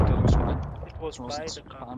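Grenade blast in the Star Citizen video game, a heavy booming burst at the start followed by fading rumble and scattered gunfire-like pops, with voices talking over the battle.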